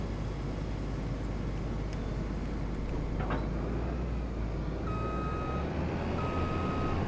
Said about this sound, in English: And we'll bring the truck on over.